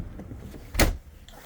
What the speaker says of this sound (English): Let me go ahead and close the door.